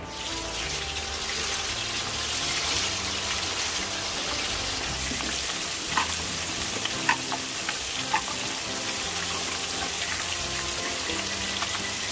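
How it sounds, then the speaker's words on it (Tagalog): Steady loud sizzling of fish frying in hot oil, with occasional pops and light clatter over the constant crackle. "Prito tayo ng isda."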